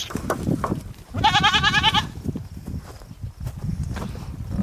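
A goat on a farm bleats in one loud, wavering call lasting under a second, with footsteps and other farmyard noise around it.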